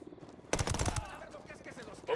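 Burst of automatic gunfire in Ghost Recon: Wildlands during a raid on a boss's house, a loud dense rattle of rapid shots lasting about half a second, then fading into quieter ambience with a brief late burst.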